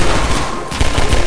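Rapid video game gunshots in Half-Life 2 Synergy rattle in a loud, close, continuous volley of repeated cracks with no talking over them.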